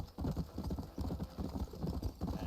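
A horse's hooves clip-clop in a steady, rhythmic trot in the Red Dead Redemption video game, moderately loud over a faint in-game ambience.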